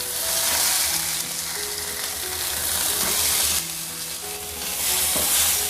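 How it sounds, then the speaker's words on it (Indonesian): Fish sizzles loudly and steadily in hot oil in a pan over medium heat, with scraping and clattering as the pieces are turned, all close and without talk. "goreng ikan sampai kurang lebih ke kuning-kuningan ya. Kita balik biar tidak gosong"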